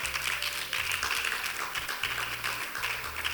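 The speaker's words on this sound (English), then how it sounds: "I would like us to please give this man a resounding round of applause" Audience applause in a conference hall at a law conference, a dense wash of clapping that carries steadily through the clip over a low droning hum.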